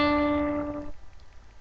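A piano sounds a major second, C up to D, as a bright ringing tone that sustains briefly and then cuts off into quiet room noise, heard alone without talk.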